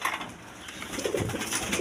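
A pair of Shorting pigeons coo softly nearby, low throaty murmurs in a couple of short bursts against faint background hiss.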